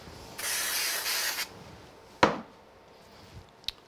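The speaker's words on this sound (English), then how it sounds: "I'm going to just put this one on with some spray glue." One sustained hiss of spray glue being sprayed onto paper for about a second, close and steady, followed by a sharp tap and a few faint handling noises.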